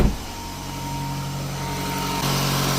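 A 2007 Toyota RAV4 engine idling with a check engine light on and stalling, rough-running faults, giving a steady close hum with a constant low drone and faint high whine, unbroken throughout.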